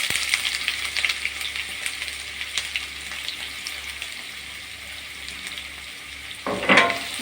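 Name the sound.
chopped onions frying in a pan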